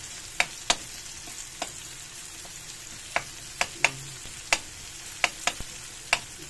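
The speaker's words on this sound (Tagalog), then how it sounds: "Igisa natin dito yung bawang." Garlic sautés in a pan for Filipino adobong kangkong with tofu, giving a soft, even sizzle under a dozen crisp spatula taps on the metal. The sound is close and there is no talking.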